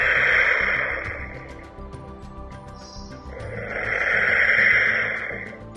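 Foley wind instrument making a strong wind effect: two broad rushing swells that rise and fade slowly, with a low rumbling undertone, loud and without talk.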